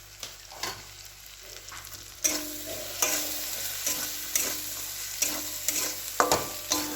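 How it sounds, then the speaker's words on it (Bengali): Curry with peas, chilli and turmeric powder being sautéed in a pan, repeated scraping and stirring strokes over a quiet sizzle, close and irregular, with no talking. "মটরশুঁটি দিয়েছি, লঙ্কা গুঁড়ো, হলুদ গুঁড়ো দিয়ে একটু ভালো করে কষিয়ে নিই"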